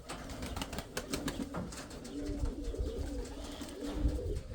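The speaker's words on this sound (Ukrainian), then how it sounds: "Ці голуби так просто літати не будуть" Pigeons coo in low, soft rolling calls while bursts of wing flapping clatter nearby, with faint background noise throughout.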